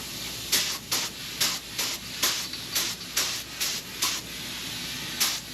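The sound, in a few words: spray gun spraying Cerakote coating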